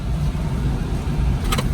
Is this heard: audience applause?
no